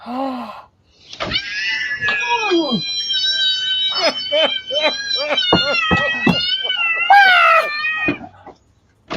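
A cat yowls in a long run of loud, close, drawn-out wailing meows, one after another with brief gaps.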